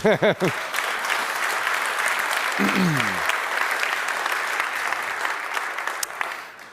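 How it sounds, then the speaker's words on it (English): Audience applause fills a conference hall, steady dense clapping from the whole room throughout, with a brief voice at the start and another short spoken word midway over the clapping. "I think that deserves a round of applause."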